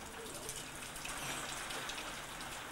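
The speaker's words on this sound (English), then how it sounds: "So often I catch men working in the rain." Steady rain falls on a construction site, a dense continuous hiss of drops spread evenly across the whole stretch with no voices over it.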